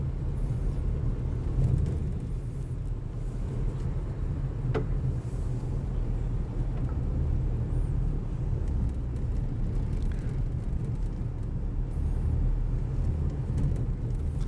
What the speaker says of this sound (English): I'll give you a little ride in our truck over the new lava road.